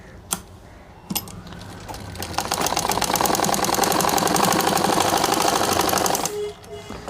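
A sewing machine runs a fast, steady stitch along a panjabi collar, preceded by a couple of sharp clicks, its loud rhythmic rattle running for several seconds before stopping.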